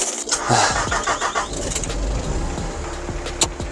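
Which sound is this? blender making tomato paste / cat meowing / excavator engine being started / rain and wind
excavator engine being started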